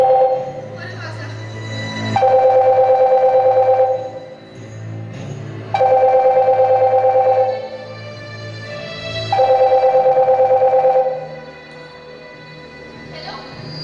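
A telephone rings in three long bursts separated by short pauses, a steady electronic warble that is loud and close, with a low hum underneath.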